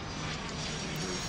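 A jet airliner's engines in the Airport Madness video game give a continuous broadband roar and whine, steady and fairly faint, with no voices over it.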